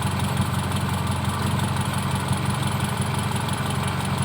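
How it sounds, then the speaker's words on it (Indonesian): A car engine idling at steady low speed, with a close, even, continuous rumble and a fine regular pulsing throughout, unchanging and with no voices. "ini kondisi langsam"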